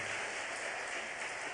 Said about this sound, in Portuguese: Pode aplaudir mais forte a palavra do Senhor.